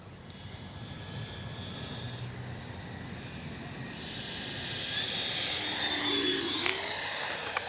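A Freewing 90mm Zeus RC jet makes a low, slow pass on its maiden flight, its ducted-fan whine and rushing hiss building gradually from distant to nearer and louder over several seconds, with no talk.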